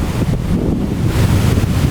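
Strong typhoon wind on the coast of Siargao during Typhoon Auring: loud, continuous roaring gusts buffeting the microphone, with surf rumbling beneath and no talk.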